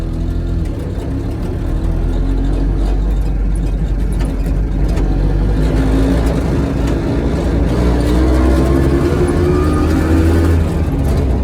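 Piaggio Ape 50 three-wheeler driving through town, its small engine giving a steady, loud drone with shifting whine and road noise, no talking.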